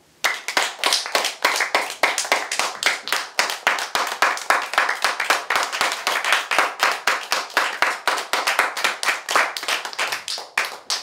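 Congregation clapping hands in unison at a Korean church Bible academy gathering, a loud, rhythmic, evenly spaced series of sharp claps that continues steadily with no talk over it.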